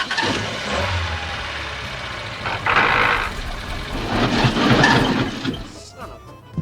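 A car engine in a Home Alone scene falters and stalls after idling and revving, the mid-pitched motor rising and dropping in uneven bursts before cutting out, with voices talking over it.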